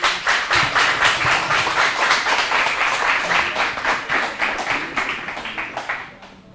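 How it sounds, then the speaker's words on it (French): A school audience at a lycée competition applauds the school captain, loud, closely spaced clapping with a rhythmic pulse that carries on steadily and fades out toward the end. "je vous demande de l'applaudir"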